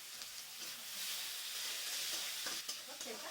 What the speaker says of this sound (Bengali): এবারে আমি কেটে রাখা টমেটো আর 2টো কুচনো কাঁচা লঙ্কা দিয়ে দিচ্ছি।